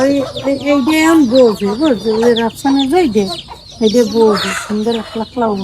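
Village chickens cluck and croon loudly and close by as they settle into their coop at dusk, a busy run of repeated rising and falling calls with a voice talking briefly in between.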